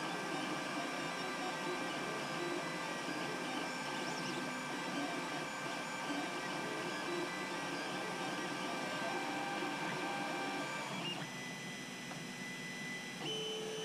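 A 3D printer printing a Loki mask whirs in a steady, faint mechanical hum with shifting stepper-motor tones, its pitch changing late on as the print nears completion; no one speaks.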